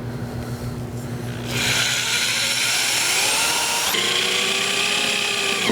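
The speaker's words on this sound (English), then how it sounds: "so we can go ahead and punch out our holes." A power drill punches holes underneath a truck bed while installing storage drawers, starting after a quieter hum and then whining loudly and steadily close by, with its pitch shifting as the bit cuts.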